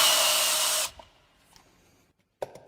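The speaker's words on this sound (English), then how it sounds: "To clean the hub, it is best to use a wheel hub grinder." A wheel hub grinder cleans a car's wheel hub during brake disc work, a loud continuous buzzing grind for under a second, then stopping, followed by faint clicks and a short metallic knock.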